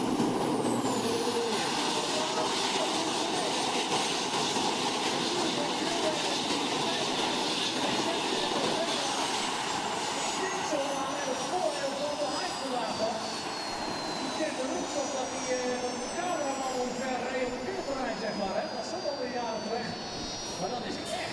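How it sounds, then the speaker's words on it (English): Turbine-powered pulling tractor running on the track at a tractor pulling event in Putten: a loud, continuous jet-like roar with a high descending whistle, heard beneath an announcer's commentary. "So turbine power on the track now."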